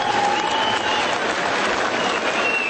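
A large hall crowd gives a sustained ovation for Georgian politician Irakli Alasania, dense unbroken applause filling the room evenly from start to finish with no voices standing out.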